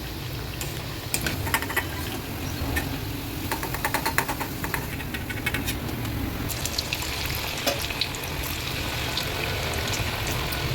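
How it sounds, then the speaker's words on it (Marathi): Coriander vadi deep-fry in oil over a medium to high flame, producing a continuous close sizzle and bubbling with occasional crackles and stirring clinks. "अशा प्रकारे या उरलेल्या वड्यासुद्धा मी आता तळून घेणार आहे"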